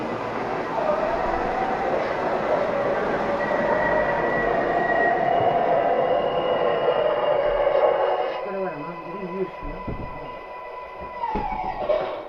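An MTH R142A model subway train on the 4 Lexington Avenue express line runs with a steady rolling hum and whine, then slows with squeals and clunks while an automated announcement voice plays near the end.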